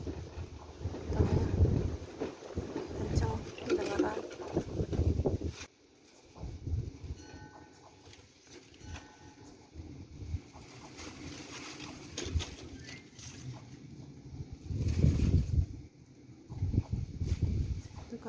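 Strong gusts of a dust storm in Saudi Arabia roar and surge, with power cables giving off thin whistling tones, dropping to a lull midway before rising again.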